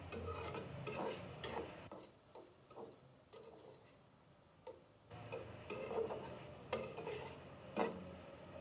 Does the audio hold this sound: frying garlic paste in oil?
yes